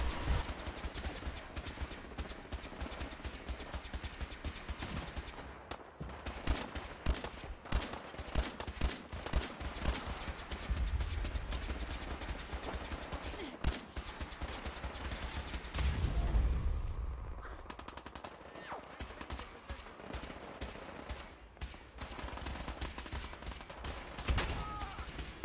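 Bursts of rapid gunfire from the Fallout 4 video game crackle in quick volleys through most of the stretch, with a brief lull near the middle before the shooting resumes.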